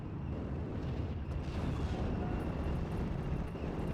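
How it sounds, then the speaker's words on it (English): A Panzerfaust strikes a Dingo armored car in a World War II strategy video game: a dense, rumbling explosion with a sustained low roar and crackling debris that persists for several seconds among ongoing battle noise. "we got a Panzerfaust hitting that Dingo as well"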